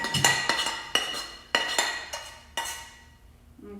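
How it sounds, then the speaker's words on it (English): A spoon stirring cooked eggs into a potato mixture in a breakfast skillet gives a string of sharp metallic clinks and scrapes against the pan, close and distinct, with brief quiet between strokes. "I'm gonna go ahead and stir them into our potato mixture."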